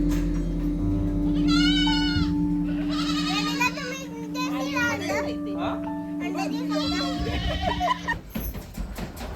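Goats bleat repeatedly close by on a goat farm while children chatter and call out, with a steady farmyard hum underneath.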